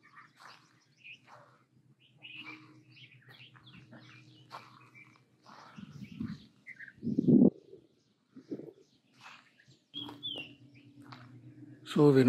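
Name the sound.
many birds calling on roadside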